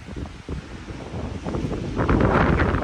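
Wind gusts across an exposed, windswept ledge on a mountain summit, buffeting the microphone with rough rumbling that builds louder toward the end, with no voices.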